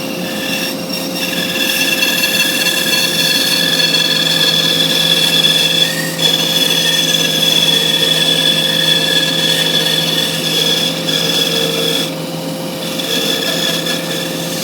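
A bandsaw cuts curves in a wooden workpiece, a steady loud mechanical whine with constant tonal hum, the cutting noise shifting slightly as the blade works around the curves, with no talking.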